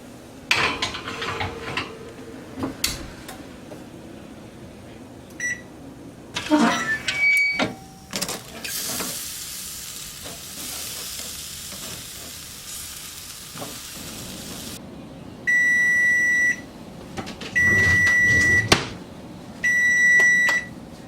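A dish of shrimp goes into an oven preheated to 350, with clattering of pans and a door, a burst of hiss, then three separate runs of steady electronic beeping near the end.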